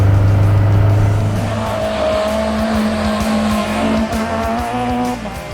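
A small-engined Peugeot 205 drives along with its little motor humming loud and close, the pitch shifting through the revs under steady road and wind noise, and nobody speaking.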